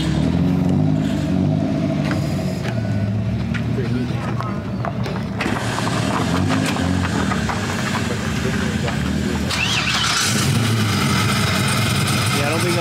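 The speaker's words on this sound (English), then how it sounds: "I guarantee that that's a V8 under there," A V8 car engine at a drift event, idling loudly and close with throaty rumble and sharp revs through an exhaust kit, while people talk nearby.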